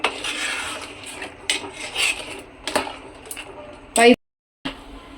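Crab curry with egg gets mixed in a pot, a spoon scraping and clinking against the metal in uneven strokes, with one sharp clatter near the end before a brief silence.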